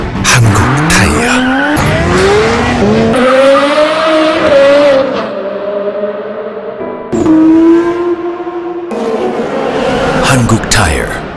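DTM race cars skidding with loud, near tire squeals over revving engines, the squeals sweeping upward in pitch, with a brief break before a second burst of skidding.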